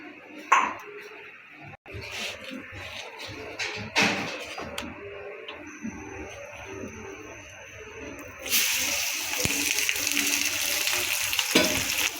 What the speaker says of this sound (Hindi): अब हमने रोटी के ऊपर 1 चम्मच घी का लगा देना है अच्छे से।